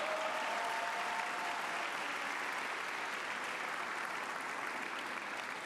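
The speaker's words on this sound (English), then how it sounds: "So give yourselves a round of applause." Steady, dense applause from an awards-ceremony audience, loud and unbroken from start to finish with no talk over it.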